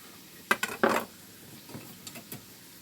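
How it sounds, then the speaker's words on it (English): Knife work on a cutting board while cooked meat is sliced for soup, a few sharp clicks and knocks bunched close together, then softer scattered taps, near and fairly quiet with no talking. "I'm just going to go ahead and slice this up"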